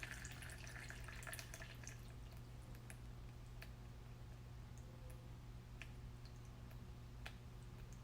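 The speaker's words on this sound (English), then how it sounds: "We're going to go till the same amount of drip as the last one." Water dripping down through fine gravel in a permeability and porosity demonstration, a faint scatter of small irregular drips and ticks over a steady low hum.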